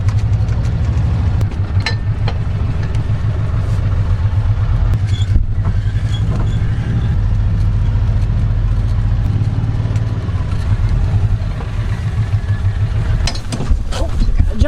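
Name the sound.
farm vehicle engine while driving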